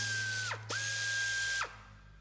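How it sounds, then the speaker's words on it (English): Two locking cylinders on a cyborg's head are rotated counterclockwise in a film sound effect, giving a whirring mechanical whine with sharp ratcheting clicks, a brief stop, then a second whir ending in a click. "Rotate the two locking cylinders counterclockwise."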